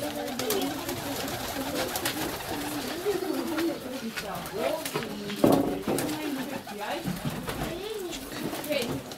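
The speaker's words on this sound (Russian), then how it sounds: "Вон голубь, который сидит." Pigeons coo in a dovecote with repeated soft, throaty rolling calls close by, while people talk over them.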